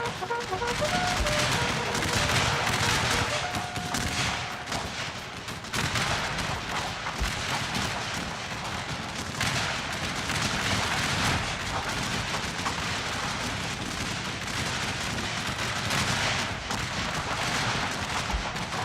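Dense, continuous gunfire and booming artillery from a Civil War battle in a video game, the Battle of Ball's Bluff, with overlapping volleys and cannon blasts that roll on without a break, loud and close throughout.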